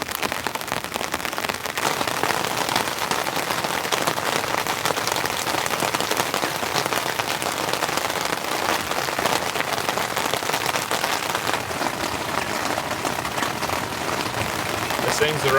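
Heavy rain drums steadily on a winter camping tent during an incoming rainstorm, a dense, continuous, close patter filling the whole stretch without letup.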